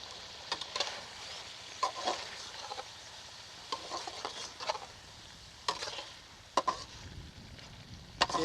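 White chicken karahi with ground white pepper fries in a pan. A soft, steady sizzle runs underneath while frequent scraping and clinking stirring strokes stand out close by, coming irregularly every second or so.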